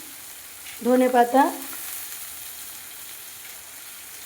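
Fish oil sizzles softly and steadily in a pan as chopped tomatoes go in for a Baul fish dish, a low frying hiss running throughout, briefly under a single spoken word.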